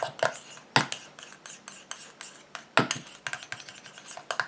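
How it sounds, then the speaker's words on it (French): A utensil stirs a homemade bamboo and lotus day face cream in a container, giving irregular clicks and scrapes against the sides, close and fairly quiet. "Et bien sûr, je mélange."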